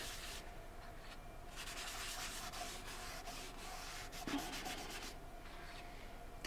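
Rubbing cut and polish onto the inside of a textured iridescent wooden platter, a soft continuous sanding-like rasp in gentle waves, faint and alone.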